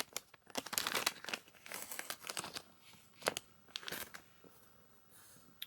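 Crinkly foil wrapper of a Yu-Gi-Oh card pack being torn open and crumpled up close, in several quick rustling bursts with short pauses, with no talking.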